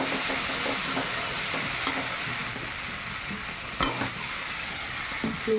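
Steady, loud sizzling of spices and whole green chillies frying in a hot pan, with a few soft clinks and scrapes from stirring.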